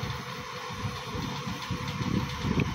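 A Mercedes-Benz OH1830 bus engine idles nearby, a low, steady rumble with slight uneven pulsing, fairly quiet and continuous.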